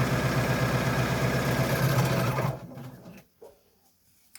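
An overlocker or zigzag stitch neatens the straight edges of a fabric face covering, buzzing loud and steady up close for a couple of seconds before stopping, followed by faint handling sounds.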